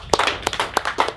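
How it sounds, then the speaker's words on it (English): A handful of sharp hand claps in quick, uneven succession, fairly close, as a small concealed carry class applauds at the end of a session. "give you guys a round of applause"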